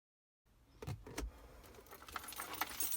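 Car keys for a 1998-2005 Mercedes-Benz W163 ML-Class jangle close by after a moment of silence, with a few sharp metallic clinks followed by a looser, continuing rattle.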